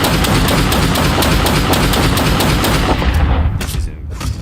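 A glow-sighted service pistol fires in Fallout London, a dense burst of loud, rapid gunfire with overlapping blasts that fades out near the end.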